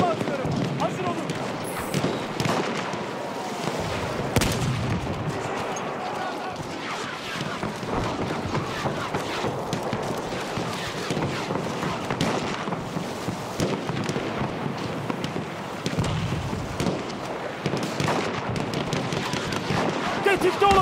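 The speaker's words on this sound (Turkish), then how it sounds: "Bomba atıyorum." Grenade explosions and gunfire in the video game Battlefield 1, a dense stretch of crackling blasts and rumbling booms running throughout, with a voice speaking in Turkish over the battle.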